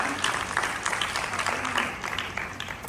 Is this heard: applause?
yes